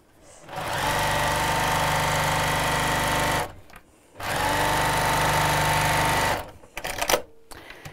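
A sewing machine stitches a curved-top tote bag in two long, loud bursts of steady close whirring, separated by a short pause, followed by brief clatter and handling noise.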